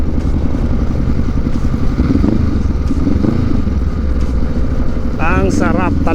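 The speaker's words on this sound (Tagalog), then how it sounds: "Ang sarap talaga magmotor." Motorcycle ride near Tagaytay with Taal Lake in view, engine droning steadily up close while a rider talks over it, with some clattering and a brief rising whine near the end.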